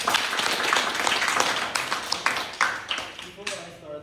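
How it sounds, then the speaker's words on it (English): An audience in a small group session applauds with scattered, fairly close clapping that thins out toward the end, with some voices mixed in. "let's give a hand of applause"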